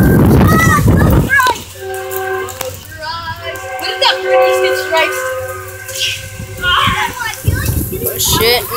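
A passing train sounds a long, steady horn blast lasting several seconds while people talk nearby outdoors, with rumbling and voices before and after the horn.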